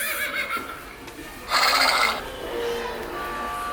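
Recorded horse neigh from a farm animal sound book: a loud, close whinny that rises into a bright shrill burst midway, then fades into a steady hiss.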